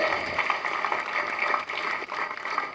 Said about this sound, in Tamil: இந்த கைத்தட்டெல்லாம் பத்தவே பத்தது